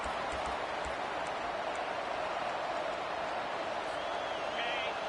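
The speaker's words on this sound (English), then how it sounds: "the crowd coming to life here" Crowd noise in a college football video game, a steady broad roar of cheering fans filling the whole stretch at moderate level, with no break or swell.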